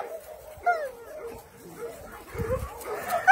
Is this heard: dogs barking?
yes